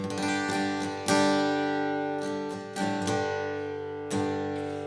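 Strummed acoustic guitar chords from the verse of "Draw Me Close" ring out close and full, with a few fresh strums letting each chord sustain and slowly fade between them.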